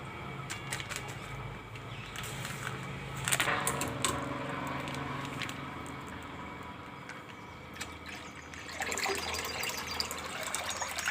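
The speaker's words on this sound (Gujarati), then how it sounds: "આપણે આ ત્રણેય કોથળી દૂધ નાખી દેવું એમાં" Milk pours steadily into a pan, with a gushing splash that rises and falls and a faint background hum.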